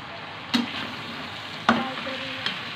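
Ginger-garlic paste with Maggi masala frying in a pan: a soft steady sizzle under three sharp scraping stirs of the spatula, fairly quiet and close.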